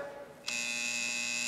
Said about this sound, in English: Push the goddamn buzzer, will you?